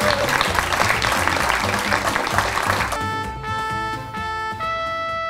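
Union members applaud at a financial-sector general strike press conference, loud continuous clapping for about three seconds before a song with tonal music takes over.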